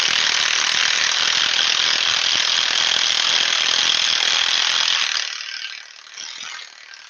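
A DeWalt impact wrench runs loud and close in one steady, buzzing, rattling burst for about five seconds, then cuts out, leaving a quieter fading whir.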